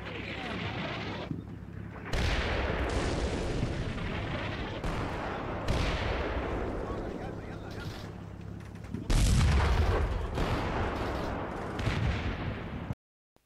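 Airburst mortar rounds pound a forest position in the PC war game Combat Mission Shock Force 2, with dense, rumbling explosions and crackling gunfire rolling continuously, loud and close, swelling sharply near the end before cutting to silence.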